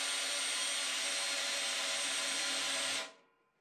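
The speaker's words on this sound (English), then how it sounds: "Just makes it easier to drill a big hole like that if you start with a smaller drill bit." A power drill boring a large hole with a drill bit while installing a Ferris FW-15 Qwik Chute on a mower, a steady loud whine held close for about three seconds before it abruptly cuts off and winds down.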